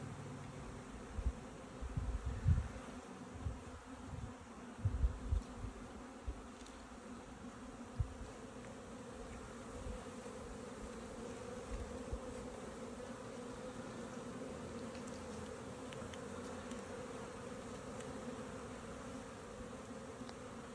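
Honeybees buzz around an open hive during an April beehive inspection, a dense continuous hum with louder close passes and occasional low knocks early on, fading to a steadier drone.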